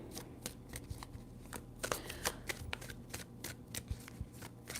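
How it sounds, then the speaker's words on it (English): A tarot deck shuffled by hand, soft close riffles and flicks in quick repeated bursts, fairly quiet, with no voices. "3 shuffles."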